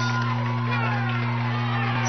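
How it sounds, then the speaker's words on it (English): Spectators at a California community college softball state playoff game in San Mateo cheer and shout after a stand-up double, a busy crowd roar over a steady electrical hum with a commentator talking on top. "The San Mateo crowd into it now."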